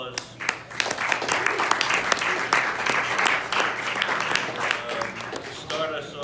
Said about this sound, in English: Give everybody who's here a big round of applause.